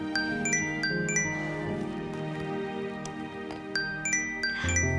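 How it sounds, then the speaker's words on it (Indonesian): A phone ringing with a bright, tinkling jingle tone, its short chiming notes repeating in a steady pattern over soft background music, fairly clear and close. "Bang, Om Jimmy telepon"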